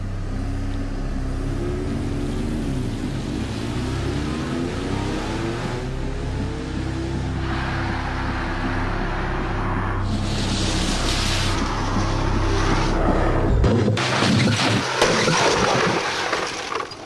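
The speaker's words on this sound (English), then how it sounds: "Another remote-controlled 3-star NCAP car, 70 miles an hour into concrete blocks." A remote-controlled three-star NCAP car drives into concrete blocks at 70 mph: a steady engine hum, then a sudden loud crunching impact with breaking and scattering debris near the end.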